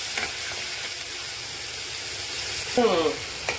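Tomatoes sautéing with salt in a pan for a simple kadalaparuppu kuttu, giving a steady close sizzle and frying hiss with brief stirring scrapes near the end.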